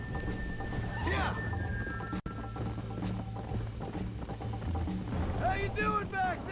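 Hooves clip-clop steadily from a galloping horse in the Red Dead Redemption video game, running continuously under music and a voice, with a brief whinny near the end.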